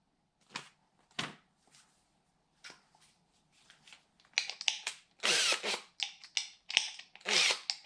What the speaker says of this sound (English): put the P500 abrasive discs on and using medium to light even pressure, sand that back until all the yellowing and bleh is gone